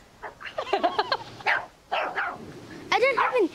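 A dog barks and yips in short bursts at home, close and fairly loud, mixed in with people talking.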